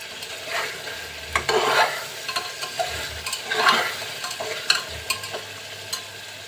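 Duck meat being stirred and fried in a pot for a pressure-cooker curry, with repeated scraping stirs and steady sizzling at close range, no talk.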